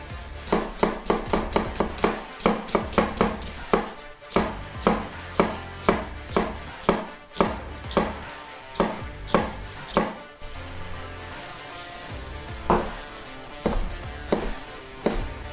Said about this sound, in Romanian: Asta este brunoazul mărunt.